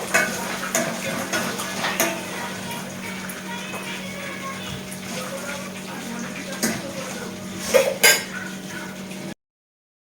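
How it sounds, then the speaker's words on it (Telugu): Peanuts fry in a pan for paneer chutney, a light, crackling sizzle under clinks and scrapes of a utensil against the pan, with a few sharper knocks near the end before the sound cuts off. "పన్నీర్ చట్నీకి అయితే పల్లీలు ఇవైతే ఫ్రై చేస్తున్నానండి"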